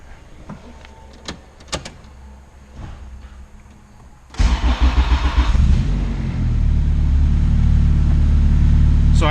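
A turbocharged Honda Civic EG drag car fires up after a few faint clicks and whirs, then settles into a loud, lumpy, rising idle that fills the rest of the stretch.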